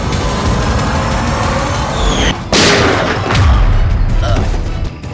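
A gunshot in a Bengali TV crime drama: one sharp, loud crack bursts out midway through a dense, rumbling dramatic soundtrack.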